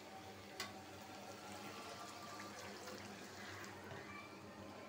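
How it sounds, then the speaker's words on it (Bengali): Water is poured into a taro and shrimp curry cooking on the stove, giving a soft continuous splashing and trickling that stays faint and close. There is no talking. "এখন আমি অল্প একটু জল দিব।"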